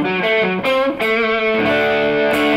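Single-coil pickup tone from a Fender American Vintage II 1977 Telecaster Custom: bright, ringing electric guitar notes and chords played loud and close, changing every second or so.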